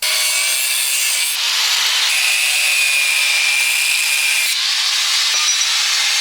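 A handsaw cuts a marked 20-inch piece for homemade tree climbing spikes. The strokes are steady and loud, with a raspy hiss that runs continuously and no talk.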